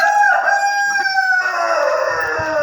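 Chickens in a backyard coop, where a rooster gives one loud, close crow that rises, holds, then drops off, with faint clucking underneath and no talk.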